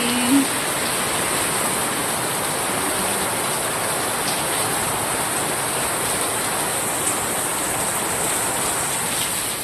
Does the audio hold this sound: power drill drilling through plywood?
no